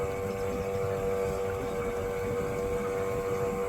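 A motor running aboard an Endeavor 32 sailboat under way, a steady close engine hum with a tonal whine and constant wind and water wash behind it.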